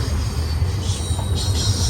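A high-priority BNSF Z freight train with five engines, including three heritage units, passing westbound through scenic Silverwood; a continuous loud rumble with low engine drone and high wheel squeal tones.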